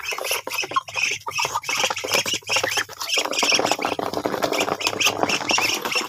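Muscovy ducks of rare colours give loud, raspy squawks and hissing calls close by, in a busy, continuous jumble of overlapping cries on a small farm.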